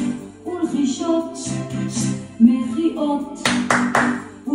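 Several crisp hand claps land near the end over a sung tune, loud and close, with the melody continuing underneath.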